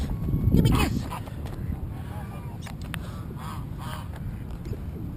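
Ducks honking and quacking nearby, a loud burst of calls at the start followed by scattered quieter quacks over outdoor background noise.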